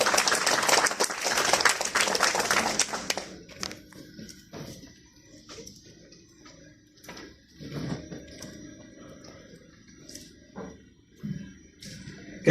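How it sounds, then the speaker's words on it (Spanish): Audience applause at a university event swells loudly for about three seconds, then thins into scattered claps, shuffling and faint murmurs of a room settling down. "Fuerte aplauso, por favor."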